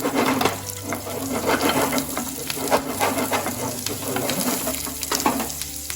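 Onions sizzle and fry in a hot pan for beer-fried chili chicken, a steady crackling hiss with stirring clatter throughout, fairly loud and close, with no talk over it.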